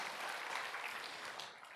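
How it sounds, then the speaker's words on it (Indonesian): A church congregation at a Sunday sermon claps together in a brief, fairly quiet burst of dense, even applause that fades slightly at the end. "Berikan tepuk tangan buat Tuhan Yesus"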